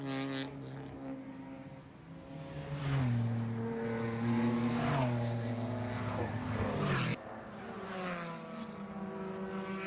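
An All-Star Racing BMW race car at a wet Mid-Ohio eight-hour endurance race roars past, its engine note climbing and sweeping, then cutting off abruptly before a steadier drone returns.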